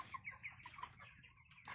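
Twenty-nine-day-old chickens in a shed give faint, scattered clucks and soft chirps, with a few brief calls close together and no talk.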